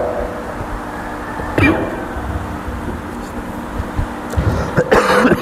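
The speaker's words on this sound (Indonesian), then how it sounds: "Ini mohon maaf agak batuk-batuk." A lecturer giving a hadith lesson coughs and clears his throat, two harsh bursts separated by a low steady hum, the second loud and close.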